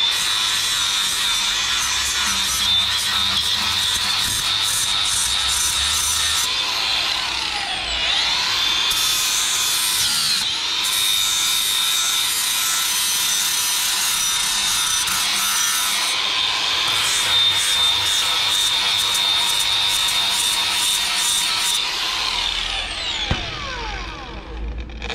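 A flap disc grinds mild steel welds. The loud, continuous abrasive whir is broken by short pauses and pitch dips as the disc is lifted and pressed against the metal, and it winds down near the end.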